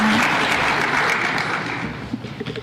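Applause at a high school awards night, a thick wash of clapping from the audience that gradually thins and trails off into scattered claps.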